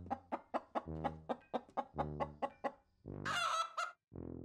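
Chickens cluck close by in a quick series of short, sharp clucks, followed by a louder, drawn-out squawking call and one last cluck.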